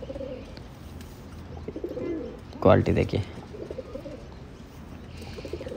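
Pigeons coo briefly at close range around the middle of a short stretch of quiet room noise, with someone speaking a few words.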